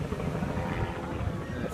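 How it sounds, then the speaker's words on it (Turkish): A helicopter hovers over a half marathon, its rotor thumps and engine roar filling the air loudly overhead, a dense continuous drone. "Helikopter üstümüzde."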